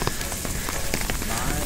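Heavy monsoon rain on a street in Jammu, a dense, constant hiss of drops hitting surfaces, loud and close, with faint scattered taps and splashes inside the steady wash.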